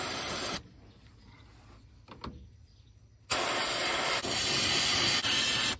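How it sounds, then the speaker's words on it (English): Brake cleaner sprayed from an aerosol can into the engine bay of a Honda Element gives a loud, close hiss. Two bursts come with a quieter pause between them, and the second spray is longer and continuous. "Got some brake cleaner I'm gonna blast in there."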